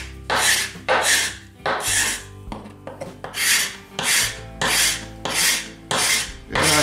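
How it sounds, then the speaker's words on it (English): A hand scraper rasps contact cement off a wooden board in repeated strokes, about eight close, loud scraping passes with short pauses between them, and no one speaking. "Now I'm going to use this scraper and just try to get all this contact cement off of here."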